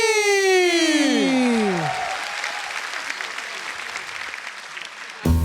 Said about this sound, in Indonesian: Berikan tepuk tangan untuk Benny.